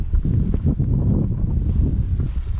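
Strong wind buffets the microphone at an airfield where a Volantex Corsair F4U model plane is flown, a steady loud low rumble with gusting surges throughout and no voices.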